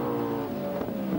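Touring car race engines drone loudly and steadily in a continuous roar, with no voices over it.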